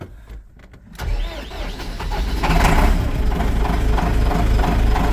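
A car engine cranks, catches and settles into a steady idle that builds to a loud running hum as the vehicle rolls into a wash bay, close by with no talk.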